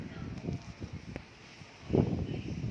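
Low, blustery rumbling buffets the microphone in uneven gusts, swelling strongly near the end, with faint rustling in the background.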